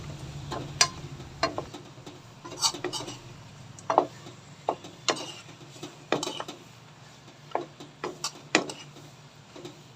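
Chicken kaldereta being stirred in a pot with garlic, onion and butter, giving irregular scraping clinks of a utensil against metal, close and fairly quiet, with no talking.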